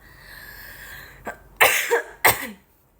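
Three sharp coughs close to the microphone, a small one followed by two harsh, louder ones, then quiet.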